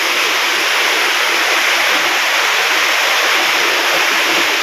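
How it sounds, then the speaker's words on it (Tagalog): Heavy rain pours with a constant roaring hiss, broad and unbroken, driven by strong wind in a sudden countryside storm. "malakas na hangin na yun oh. Hangin at ulan."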